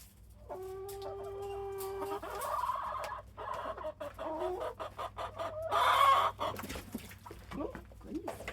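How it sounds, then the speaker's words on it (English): Backyard hens cluck and call close by as they take interest in pulled spring weeds, with a drawn-out squawk early on, then busy overlapping clucks and a louder burst near the end. "The chickens are already curious about the weeds."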